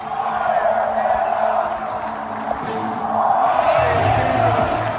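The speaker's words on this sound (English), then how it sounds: "The capacity crowd wants blood." A capacity stadium crowd at a Cleveland Browns game roars in a steady, dense wash of cheering and shouting, swelling louder in the second half with a few whoops and bellows rising out of the mass of voices.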